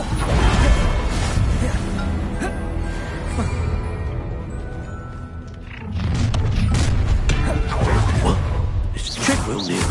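Blast spell from Hogwarts Legacy firing repeatedly, heavy booms and crashing impacts with whooshes over a dense, loud game soundtrack, with a short dip midway before the explosions resume.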